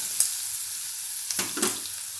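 Onion goes into a pan of hot oil with turmeric and red chilli powder, giving a steady close hiss of frying with a couple of brief louder sizzling bursts as it is stirred.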